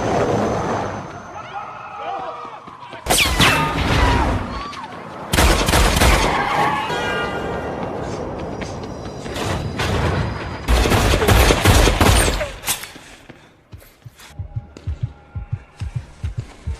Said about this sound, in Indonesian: Cross berhasil menembak lengan kiri Weasley